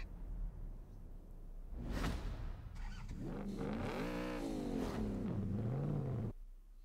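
A Lamborghini Urus in Forza Horizon 5 whooshes in, then its engine revs with the pitch climbing, dipping and rising again. It is loud and alone, then cuts off abruptly near the end.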